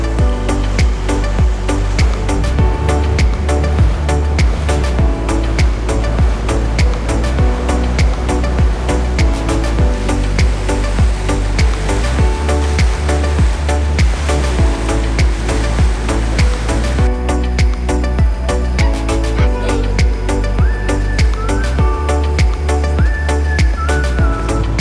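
A creek flows down into a bay at Princess Louisa Inlet, a steady broadband rushing wash, constant and fairly loud, with no talk over it.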